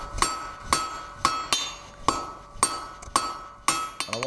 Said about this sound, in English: I want to work from two sides to forge my chisel taper